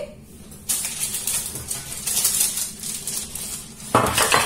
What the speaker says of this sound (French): Je prends ma plaque qui va au four et je mets mes rondelles d'aubergine.